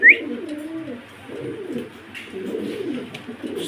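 A pair of opal-coloured Modena pigeons coo close by in soft, low, rolling calls, with a brief sharp chirp at the start and quiet pauses between the coos.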